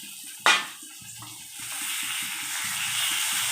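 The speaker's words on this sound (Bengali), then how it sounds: "টমেটো দিয়ে এবার ভেজে নিচ্ছে একটু।" Tomatoes frying in a pan with spices: a sharp sizzling burst as they hit the hot oil, then a steady close hiss and crackle that continues alone.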